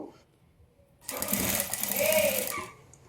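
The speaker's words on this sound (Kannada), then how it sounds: "ಈಗ ಲೈನಿಂಗ್ ಕಡೆಯಿಂದನೇ ಸ್ಟಿಚ್ ಮಾಡ್ಕೊಳ್ಳೋದು ತೋರಿಸ್ತಾ ಇದ್ದೀನಿ" A sewing machine stitching thread piping onto a sleeve from the lining side runs in one steady, close burst of about a second and a half after a quiet start, then stops.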